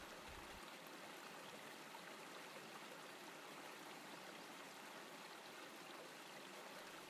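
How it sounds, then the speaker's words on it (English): A stream in Rocky Valley, North Cornwall, runs as a constant soft rushing and trickling of water, even and unbroken throughout, gentle and alone with no voices. "here's the sound of the Rocky Valley in North Cornwall"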